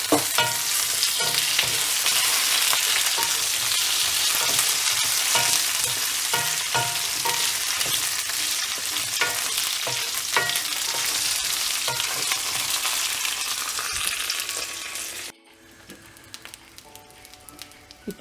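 Eggplant fries in hot oil with curry leaves for an ennai kathirikai kulambu, giving a loud continuous sizzle broken by scraping stirs, then dropping abruptly to a quieter crackle near the end.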